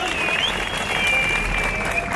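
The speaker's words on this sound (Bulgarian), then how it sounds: "Дайте малко повече аплодисменти, дайте да го наказваме." A crowd at a drift event at Inter Expo in Sofia applauds steadily and densely throughout, a continuous wash of clapping with faint voices mixed in.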